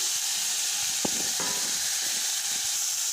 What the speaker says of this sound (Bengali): এদিকে চিংড়ি মাছটা দিয়ে দিচ্ছি ওই একই তেলে